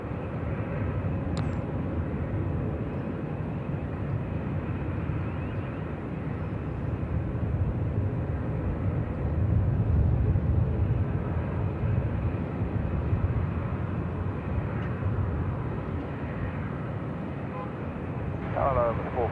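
A plane lands on runway 34 left at Sydney Airport at night in a 14-knot crosswind. A steady, far-off jet roar swells slightly toward the middle and fades, while radio voices talk over it.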